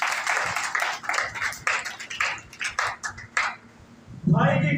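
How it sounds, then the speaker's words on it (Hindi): An audience at a Christian gathering claps hard for a brother, a dense, sustained round of applause close by, then fading as a voice starts speaking at the end. "भाई के लिए जोरदार ताली"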